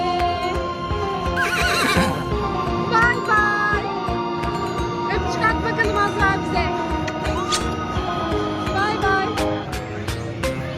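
A horse-sounding ride at a children's play area gives a loud neigh and whinny, followed by jingling, clip-clop and electronic tones that run on without a break.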